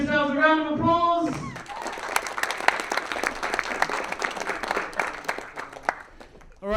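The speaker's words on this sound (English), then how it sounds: "can you give yourselves a round of applause?" An awards-ceremony crowd bursts into applause after a voice speaks briefly at the start, a dense sustained clapping that carries on for several seconds before tapering off.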